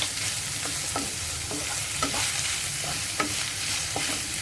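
Onions frying with garlic and ginger in a pan for a spicy ivy gourd curry, a constant close sizzle broken by soft, irregular scrapes of a spoon stirring through the pan.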